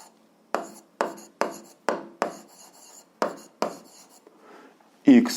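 A pen writing an algebra solution by hand on paper, a series of about eight close, distinct scratchy strokes in an uneven rhythm, ending with a louder rustle, with speech nearby.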